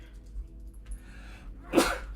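A single sharp human sneeze, near and fairly loud, bursting out after a quiet moment indoors.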